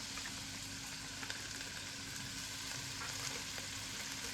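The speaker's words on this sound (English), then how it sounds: "I'll fry it for some time, and then I'll add some garlic powder" Prawn fried rice frying in a pan, a steady, close sizzle that holds evenly throughout with light stirring clicks now and then and no voices.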